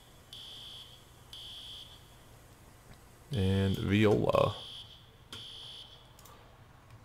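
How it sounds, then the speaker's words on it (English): A shrill electronic fire alarm in the video game EmergeNYC beeps in repeated bursts, broken by a short low rumbling tone, and someone speaks briefly over it. "Shut that whole fire alarm off before I punch through it"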